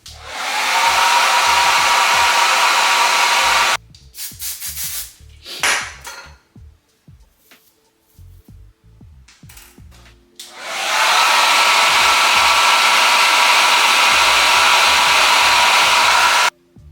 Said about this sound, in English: just continue to mold, blow dry, mold, blow dry, mold, blow dry till we get it how we want.